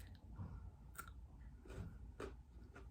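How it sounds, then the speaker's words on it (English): Crunchy bites into a classic milk chocolate wafer candy bar, several crisp crackling chews spaced about a second apart, close and fairly quiet with no talk. "Those crunchy, crispy wafers with milk chocolate."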